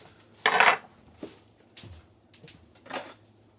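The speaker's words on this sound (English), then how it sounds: "Ladle my stroganoff in and mix that up and just do it all" Beef stroganoff being ladled into a big stock pot, with a loud metallic scrape and clatter followed by several lighter clinks and knocks of ladle against pot.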